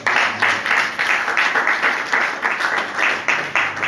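A church congregation at a glory conference applauds to acclaim Jesus, a dense crowd clapping in rhythmic surges that pulse steadily throughout.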